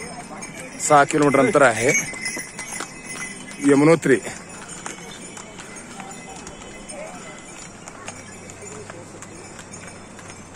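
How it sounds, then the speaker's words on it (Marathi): Pack horses carry riders along the mountain pilgrimage trail to Yamunotri, hooves clopping faintly and irregularly in the background while people talk loudly nearby. "हे बघा घोड्यावर जातात"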